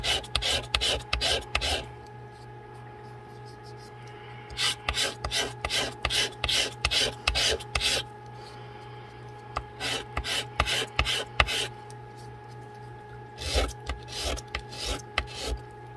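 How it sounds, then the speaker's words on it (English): Repeated rasping strokes of sandpaper on a small part of a 1:12 scale toaster model kit, worked in several bursts of quick back-and-forth rubbing with short pauses between, close and moderately loud over a steady background hum. "the more sanding that you do, the more this will blend"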